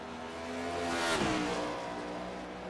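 Race cars in a street-course racing video game roar past one after another, engines swelling to a loud peak mid-clip as one sweeps by with a falling pitch, then trailing off into a steady engine drone.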